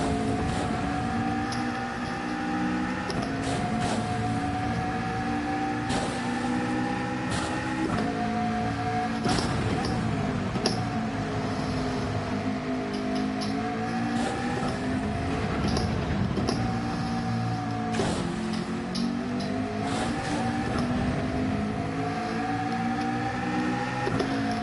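McLaren race car in a racing video game time trial on a wet track, engine whining continuously with pitch rising and falling through gear changes and corners, loud and steady for the whole run, no talking.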